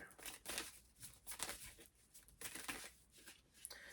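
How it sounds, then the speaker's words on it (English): Tarot cards being shuffled by hand: faint, close riffling and sliding bursts repeating in an uneven rhythm with soft papery rustles. "Gonna get a little bit more precise with the shuffle."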